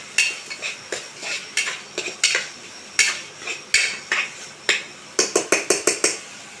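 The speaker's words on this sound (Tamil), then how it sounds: "சிக்கனையும் போட்டு நல்லா வதக்கி விட்டுக்கலாம்." Boneless chicken pieces for chicken pasta are sautéed and stirred in a pan, with a near series of sharp utensil clinks and scrapes against the pan that speed into a quick run of taps at the end, no talk.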